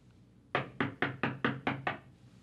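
Seven firm, evenly spaced knocks strike a door in quick succession, each a sharp, resonant rap heard close and loud against a quiet background.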